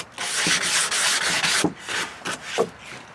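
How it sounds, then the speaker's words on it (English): Hand sanding scrapes over a wooden dog bed platform in repeated back-and-forth strokes, a close, steady rasping rub with short pauses between passes. "before we take it inside, we'll sand it down a bit"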